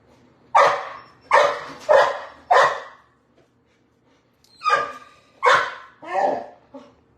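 A neighbour's dog barks outside in two bursts, four sharp barks then a pause and four more, fairly close and clear with no talk over them.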